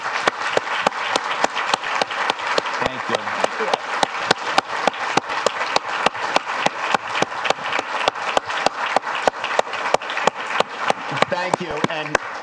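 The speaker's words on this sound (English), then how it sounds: "Let's give him a big round of applause." An audience at a Berkeley Haas talk gives a long round of applause for a guest speaker, with steady, closely packed claps that form a rhythmic patter throughout and a voice speaking briefly near the end.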